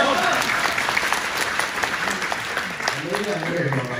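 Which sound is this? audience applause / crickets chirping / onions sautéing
audience applause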